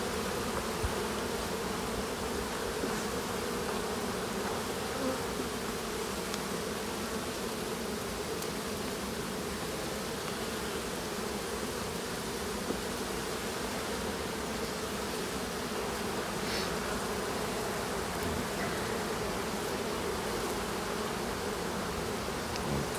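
Honeybees buzzing around a hive during a heavy varroa year, a dense, continuous hum of many insects holding steady throughout, close and fairly loud with no voices.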